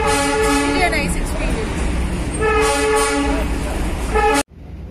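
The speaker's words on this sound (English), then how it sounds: "Our joyride has started, and you can hear the whistling sound." The Darjeeling toy train's whistle toots in two long, bright blasts over the rumble of rolling carriages, with voices mixed in; the sound cuts off abruptly.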